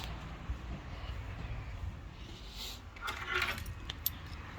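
Car keys for a Morris 1100S jingle and clink faintly in a few short bursts near the end, set against quiet background noise.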